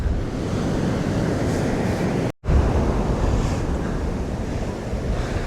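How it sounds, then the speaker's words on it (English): Choppy sea waves churn beside Skegness beach while strong wind buffets the microphone, a loud continuous roar of surf and gusts broken by one brief dropout midway, with no voices. "just look at those waves. The sea's so choppy at the moment."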